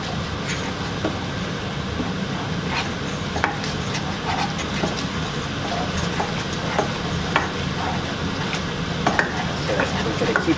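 Steady sizzling of food frying in a pan, with scattered scrapes and clicks of a utensil stirring, close and continuous with no talking.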